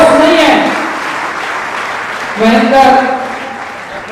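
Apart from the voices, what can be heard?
audience applause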